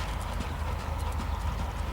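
Hooves of a dressage horse clip-clop at an extended trot, a quick even beat that stays steady and fairly close over a continuous arena hum.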